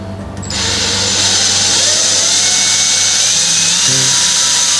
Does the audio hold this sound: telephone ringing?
no